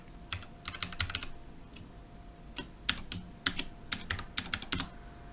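Password being typed on a computer keyboard while setting up a Raspberry Pi: close, crisp keystrokes in irregular bursts and clusters with short pauses between, alone in a quiet room.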